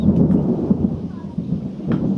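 Low, rolling thunder rumbles continuously at a distance, a deep steady growl with a faint hiss of rain underneath.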